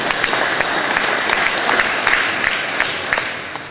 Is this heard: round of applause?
yes